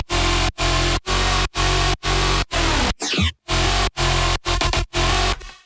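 A heavy house-drop synth lead built from electric shaver and balloon wavetables: loud, thick stabs chopped into a steady rhythmic pattern, with a swooping pitch sweep about midway and no voices.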